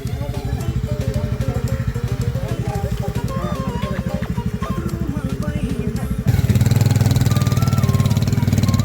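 A motorcycle carrying young riders labours along a rough, broken road, its engine pulsing steadily up close and growing noticeably louder toward the end as it revs harder.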